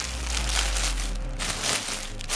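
Plastic mailing bag crinkling and rustling as a cheap 3D-printed T-shirt is unpacked, a close, continuous crackle over a low steady hum.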